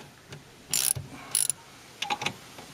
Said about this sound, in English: Hear that? That's the lip catching